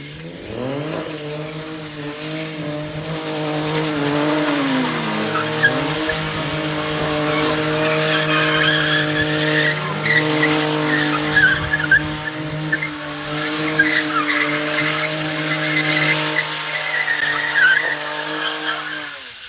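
2026 Dodge Charger Scat Pack with engine roar and sustained tire squeal, the engine note rising and falling as tires screech, loud and continuous for nearly twenty seconds.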